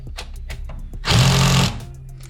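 An impact wrench on cylinder head bolts of a Ford Focus ST/RS fitted with a stage 2 head gives one loud, close, rattling burst lasting about half a second, with quieter workshop noise before and after.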